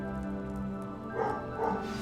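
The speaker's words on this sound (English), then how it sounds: "Max, stop barking" A dog barks in the Hogwarts Legacy video game with two short, moderately loud yelps over a steady tonal background of game music.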